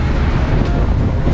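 Loud, steady wind buffeting the microphone on a seaside bike path in Taiwan, a continuous low roar with gusty fluctuations and no pauses.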